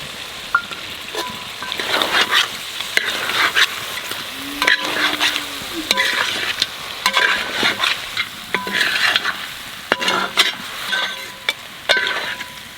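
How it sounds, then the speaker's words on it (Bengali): Duck meat sautéed with garlic in a pan, with frequent close stirring scrapes and clinks over a continuous light sizzle. "মাংসটা অর্ধেক কষা নিয়ে গেছে এবার করে রসুন দিয়ে দেবো"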